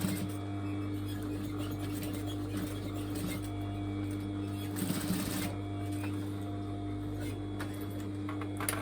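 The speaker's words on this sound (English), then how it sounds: "I'm aiming to stitch in that seam." A sewing machine stitches elastic into a skirt seam, its motor whirring steadily with a rapid needle patter and a constant hum, close and sustained throughout the stretch.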